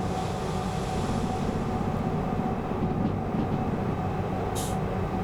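A heavy freight train rolls downhill in the Derail Valley simulator, giving a continuous dense rumble and clatter of wheels on track, steady and close, with a brief faint high squeal near the end.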